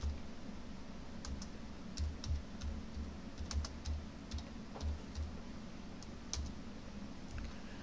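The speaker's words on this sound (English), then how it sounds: "Let me just type this in." Fingers typing on a computer keyboard in a workshop, a steady close patter of light key clicks over a constant low hum, with no talk.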